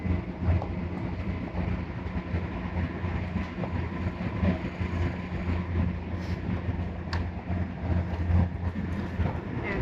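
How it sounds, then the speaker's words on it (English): Steady rumble of a train in motion in Hong Kong heard from inside a carriage, with low droning and soft rhythmic rattling, moderately quiet and continuous. "this train is really quiet and really clean"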